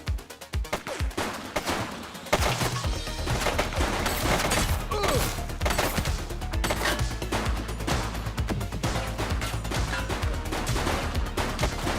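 Gunfire in the video game The Precinct: a few scattered shots at first, then continuous rapid automatic fire with a heavy low rumble, loud and close.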